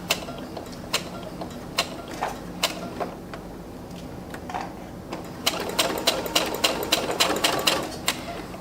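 A sewing machine stitches the curved seam of a homemade three-seam neck pillow, its needle punching in a steady rapid rhythm of close, distinct mechanical taps that quicken into a denser run toward the end.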